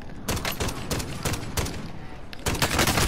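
Gunfire from a weak video game gun rattles off in repeated rapid bursts, loud and close, with short gaps between the volleys and no speech.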